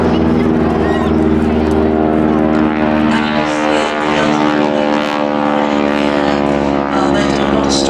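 Propeller display aircraft at an air festival wingwalking show, a loud continuous droning engine roar passing overhead and holding steady throughout, with voices faintly underneath.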